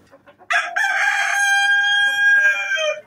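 A Dekal Brown rooster in a breeder cage lets out one long, loud crow close by after a few faint clucks.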